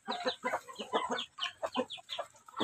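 Native chickens clucking close by, a rapid string of short, rhythmic clucks and chatter from a few birds, loud and clear with no talk.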